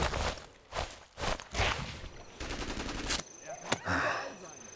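Gunfire in the World War II game Sniper Elite III, several heavy shots and then a rapid string of bursts over busy in-game noise, ending with a lone sharp crack.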